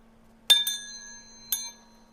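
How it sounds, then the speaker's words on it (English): A wind chime built from hard drive platters rings out with two quick metallic strikes close together, then a third a second later, each leaving a clear, lingering bell-like tone in an otherwise quiet space. "it doesn't sound bad as far as chimes are concerned"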